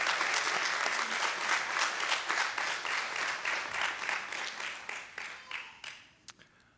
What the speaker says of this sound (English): how about a round of applause for Mr. Clare?